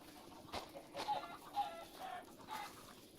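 Chickens clucking in a small flock, a few short separate clucks spread across the moment over a faint background, moderately quiet and close.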